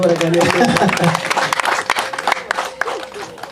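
Wedding guests break into clapping and crowd applause, loud and close, and talking mixes in with it as the clapping thins out.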